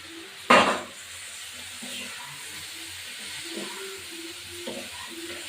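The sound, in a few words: prawns added to the pan sizzling and being stirred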